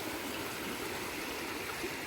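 Water streams steadily through an irrigation channel in a betel vine field near Kumbakonam, a continuous close rushing and trickling flow with no pauses and no voices.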